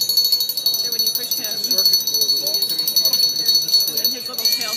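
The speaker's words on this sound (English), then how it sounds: "He has a vibration motor in his bell." A littleBits electronic cat toy's small bell jingles continuously as a vibration motor shakes it, making a bright, rapid metallic ringing under a voice.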